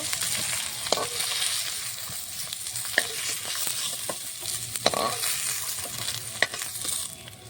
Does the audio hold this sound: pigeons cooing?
no